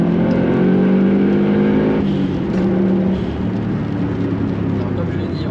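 A Subaru WRX STI with a 2.5-litre engine pulls hard, a loud, steady engine roar rising under acceleration from inside the car while a voice talks over it.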